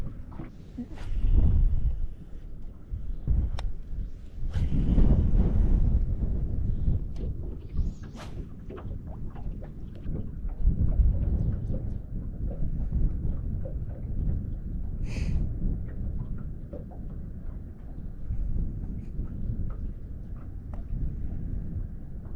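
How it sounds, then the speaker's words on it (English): Strong north wind blowing across open water during inshore fishing near Jacksonville, Florida, a steady broadband rumble and buffeting that fills the whole stretch, with gusts swelling and easing and scattered knocks and clicks on top. "We got a north wind today and it is just awful."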